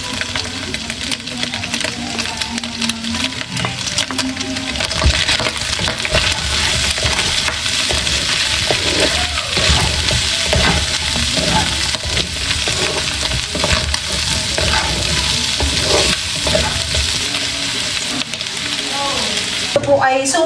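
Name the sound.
pork frying with garlic, bay leaf and onion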